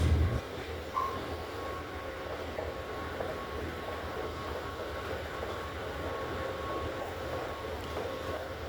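A Dubai metro train rolls along with a steady, loud rumble and a faint sustained whine, filling the whole stretch without talk.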